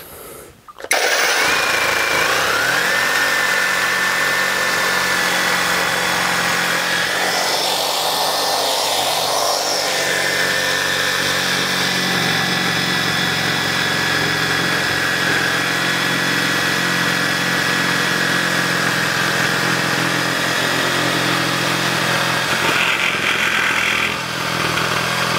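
Cordless Parkside Performance PPSTDA 20-Li A1 jigsaw on automatic speed with pendulum setting 2, cutting a thick workpiece: a steady, loud, continuous motorized buzz that runs nearly unbroken throughout with only a slight dip near the end.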